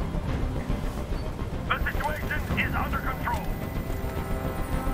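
Steady helicopter rotor drone from Detroit: Become Human runs loud and continuous throughout, with a voice speaking over it in the middle.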